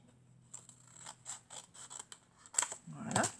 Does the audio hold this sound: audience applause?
no